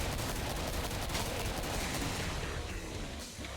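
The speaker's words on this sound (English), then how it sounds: "he's shooting over there" Rapid, dense gunfire from the video game Killing Floor crackles continuously for a few seconds, loud and close, then thins out slightly toward the end.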